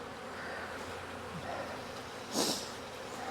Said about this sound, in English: There's too many bees in here to have swarmed.